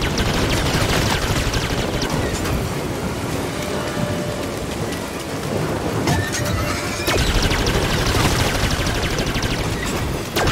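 Rapid bursts of blaster gunfire in the video game Star Wars Jedi Fallen Order, a dense and loud continuous barrage with sharp repeated cracks throughout, close and chaotic.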